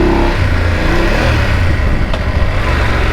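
A BMW F850GSA motorcycle engine rumbles and revs steadily up close as a ride gets under way, with dense low engine tone and wind throughout and no talking.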